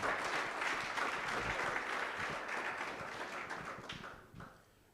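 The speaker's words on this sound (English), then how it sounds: "Round of applause, ladies and gentlemen." Quiet audience applause at a chat event with the founder of a charity organization, a steady patter of clapping that thins and fades away near the end.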